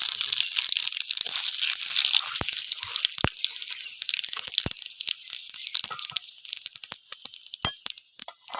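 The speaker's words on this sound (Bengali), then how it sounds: "তেলে একটু চিনি দিচ্ছি, জিরে ফোড়ন" Cumin seeds and a little sugar sizzle and crackle in hot oil as a Bengali jackfruit curry is started, a steady close hiss with scattered sharp pops.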